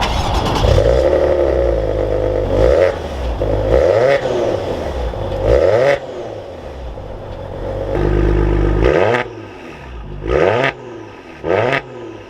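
A 2021 Maserati Ghibli S GranSport engine cranks and fires, surging with a loud rev then settling, followed by several short, sharp blips of the throttle that rise and fall, heard close.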